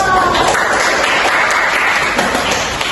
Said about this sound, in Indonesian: Beri tepuk tangan dong.